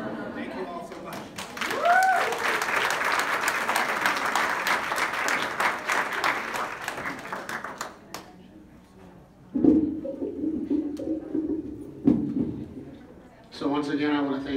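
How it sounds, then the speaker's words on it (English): An audience at a volunteers' breakfast breaks into loud, sustained applause that fades out after several seconds, followed by a short burst of talk and some further scattered clapping. "give yourself a round of applause"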